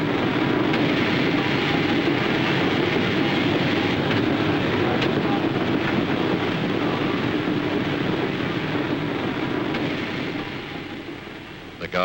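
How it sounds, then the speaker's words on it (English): A 1949 steam-era passenger train pulling into a station, a loud continuous rumble and rattle of carriages lasting about twelve seconds before easing off near the end, with a narrator's voice faintly underneath. "just in time, here's their train."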